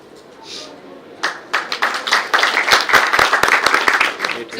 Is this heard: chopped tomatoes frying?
no